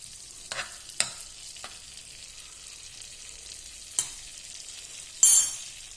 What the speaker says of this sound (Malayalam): കുറച്ച് മൈദപ്പൊടി ഇട്ടിട്ട് അത് റോസ്റ്റ് ചെയ്യണം.